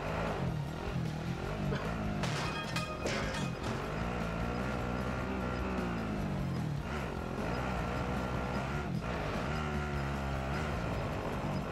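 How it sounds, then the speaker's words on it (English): An ATV engine drives in Warzone, a steady, close motor drone that rises and falls in pitch as the throttle changes, with scattered rattles and clunks over it. "let's get on this ATV and just friggin' haul ass off to the uh, the right"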